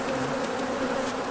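Bees buzz at an open beehive during hive maintenance, a dense, continuous, loud drone close by with no voices.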